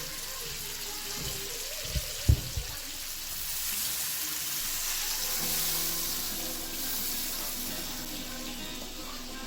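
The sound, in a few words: water poured over bhetki fish in pan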